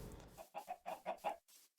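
Chickens on a rudimentary Minecraft chicken farm give a quick run of five or six close, moderately loud clucks in a steady rhythm, with no talk over them.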